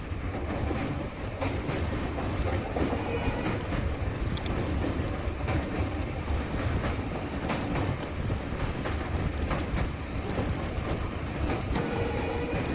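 A diesel-hauled train rolls across the new Pamban bridge at night, a steady rumbling roar with rhythmic wheel clatter and scattered squeals, sustained and fairly close throughout.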